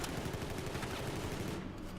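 Dense, continuous rapid gunfire in the video game Battlefield 4, fired in medium to small bursts at long range, sustained with no talk over it.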